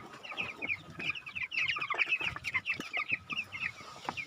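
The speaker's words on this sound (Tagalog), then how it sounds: "Dito natin ilagay yung mga native chicken." Native chickens clucking close by on a small farm, a busy overlapping stream of short clucks and cackles from several birds with no pauses.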